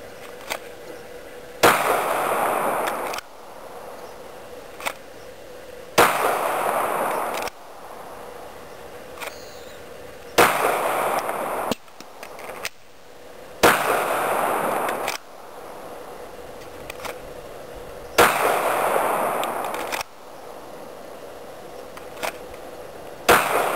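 Groups of loud, sharp pistol shots during a practical shooting drill, each burst a quick series of cracks followed by a pause, repeating about every four to five seconds at an outdoor range.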